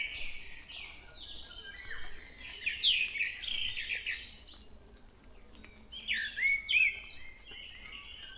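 Several wild birds sing in the morning in overlapping bursts of chirps and warbling phrases, fairly faint and distant over a quiet outdoor background.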